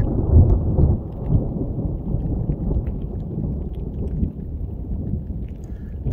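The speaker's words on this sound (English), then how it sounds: "So it's still raining." Steady rain with low rumbling thunder on a hiking trail near a volcano in New Mexico, a dense continuous wash of rainfall with a louder rumble swelling at the start, no voices.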